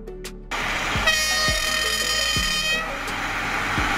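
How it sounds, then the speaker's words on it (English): A lightweight railbus on a rural line sounds its horn in a sustained blare over a rolling rail rumble, with regular wheel clacks thudding beneath as it passes close. "Railbus. A lightweight, bus-like train often used on rural or less busy railway lines."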